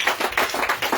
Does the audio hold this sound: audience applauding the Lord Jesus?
yes